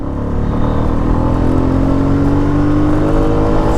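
A Royal Enfield Meteor 350 cruiser accelerates, its close, loud engine drone holding steady while the pitch slowly climbs through the gear.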